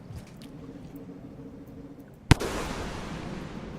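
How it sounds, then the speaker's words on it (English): Video game explosions in Rain World: a single sharp explosive burst cuts through quiet background, followed by a lingering rumble and crackle that stays loud until the end. "Explosions."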